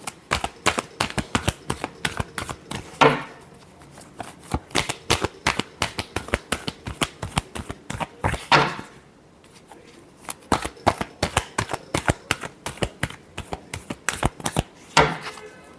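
Tarot cards shuffled repeatedly by hand, crisp fluttering riffles in quick bursts separated by brief pauses, close and clear with no talking.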